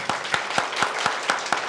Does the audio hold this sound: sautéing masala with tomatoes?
no